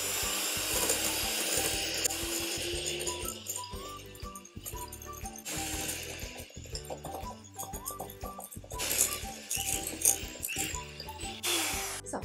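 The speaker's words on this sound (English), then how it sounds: "This is called creaming the butter and sugar together." Butter and caster sugar are creamed with vanilla extract for vanilla biscuits, a loud continuous electric mixer whir with rattling and grinding, steady throughout and heard alone close by.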